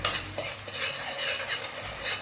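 Onion and garlic fry in a pot with a constant crackling sizzle, broken by quick scraping stirs of a spoon against the metal, close-up and without speech.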